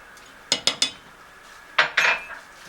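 A metal spoon clinks against a cooking pot as salt is added to a tomato sauce for trotters fatteh: three quick close taps, a pause, then two more ringing knocks.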